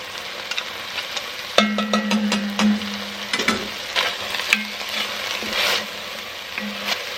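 A spoon stirs garlic and seasoning through a freezer meal in a pot, giving irregular scraping and clinking strokes with brief low ringing tones from the metal, close up and without talk.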